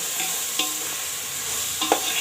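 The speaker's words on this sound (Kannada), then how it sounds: "ಒಗ್ಗರಣೆ ಎಲ್ಲ ಚೆನ್ನಾಗಿ ಫ್ರೈ ಮಾಡ್ಕೊಳ್ಬೇಕು" A tempering of coriander, mint and fenugreek leaves fries in a pan with a steady close sizzle, broken by a few scraping stirs of a spoon.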